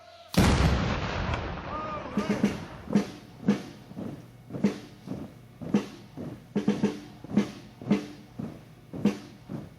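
Ceremonial gun or cannon fire: one loud blast opens, then a long run of sharp shots follows at a steady, almost marching rhythm. A voice calls out a command before the first shot.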